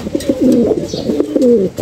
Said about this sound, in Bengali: এখন দর্শক মাঠে কত কবুতর আসছে